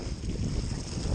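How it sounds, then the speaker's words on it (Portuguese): Strong wind blows across the microphone outdoors, a continuous low, buffeting roar with gusty rumble and no clear voices. "Muito vento aí, mas ó, é uma boa causa."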